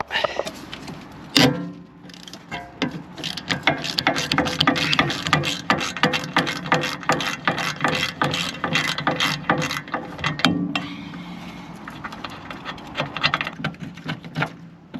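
A ratchet wrench clicks in fast repeated bursts while working on a Ford Fiesta ST150's rear ABS sensor, close and loud, with short pauses between runs of rapid pawl ticks.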